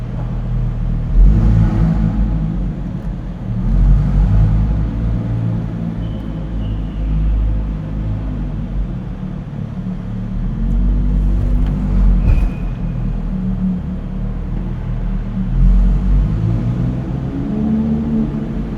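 A deep, loud car engine rumbles continuously up close, swelling with a few throaty revs over nearly twenty seconds.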